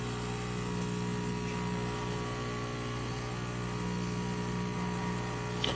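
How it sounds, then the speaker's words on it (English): A Breville BES990 espresso machine, under repair for a faulty water pump and heating probes, hums steadily with its boiler heating up, a constant low drone with electrical buzz throughout. "The boiler is actually heating up, which is good."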